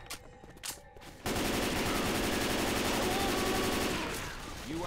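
Gunfire in a Left 4 Dead 2 custom campaign: a few scattered shots, then a long, dense, continuous burst of automatic fire that dominates and tapers slightly near the end.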